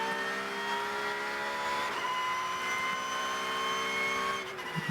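A Porsche Cup race car on a qualifying lap at Hockenheimring gives off a steady, high engine whine heard from onboard, its pitch shifting slightly, with no talking.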